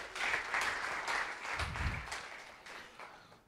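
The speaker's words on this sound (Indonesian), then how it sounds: "Tepuk tangan untuk Tuhan Yesus." A church congregation applauds during a worship service, a steady wash of clapping filling the room at moderate volume, slowly thinning toward the end.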